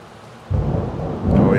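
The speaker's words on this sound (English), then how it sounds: "We're gonna be out here doing some thunderstorm barbecue today." Thunder rolls during an outdoor thunderstorm at a backyard barbecue: quiet air, then a loud, deep rumble breaks in halfway through and keeps building toward the end, with rain noise underneath.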